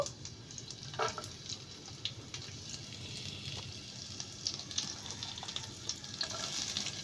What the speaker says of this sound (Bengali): এখন আমি সবজিগুলোকে হালকা করে ভেজে নেব প্রথমে আমি গাজর কুচি দিয়ে দিব